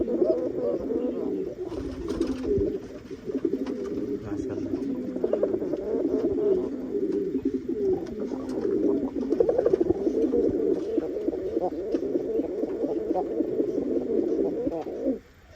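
Pigeons coo steadily up close in a coop where a pair is nesting and one sits on eggs, a continuous low throaty warbling that swells and fades throughout.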